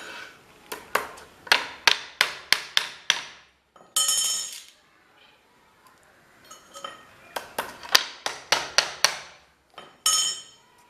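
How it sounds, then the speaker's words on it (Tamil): Hammer driving nails into a wooden screen printing frame, sharp close metallic strikes in quick rhythmic bursts of several blows each, separated by short quiet gaps. "1 இன்ச்சுக்கு ஒரு ஆணி அடிச்சுக்குங்க."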